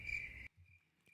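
A cricket chirping sound effect: a loud, steady, high chirp that runs for about half a second, then drops to a faint trailing chirp with a brief flick near the end.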